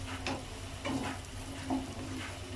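Mushroom pieces frying lightly in butter in a pan for a restaurant-style gravy, a soft continuous sizzle with faint stirring scrapes recurring at a slow, even pace.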